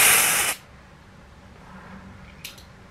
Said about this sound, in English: I'm gonna try not to use as much spray for this one